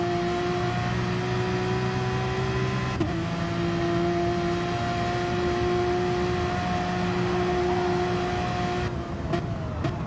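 Race cars lap the Sardegna circuit in Gran Turismo Sport at a world championship final, giving a steady, fairly quiet engine whine that holds its pitch with brief shift blips, alone without voices.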